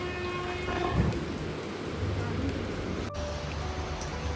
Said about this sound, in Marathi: आता थोडा थोडा पाऊस आहे